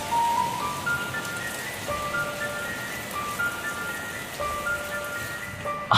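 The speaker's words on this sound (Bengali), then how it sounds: "আকাশে বৃষ্টির তাণ্ডব যেন বেড়েই চলেছে" Heavy cartoon rain falls as a steady, soft hiss throughout, with melodic music tones playing over it.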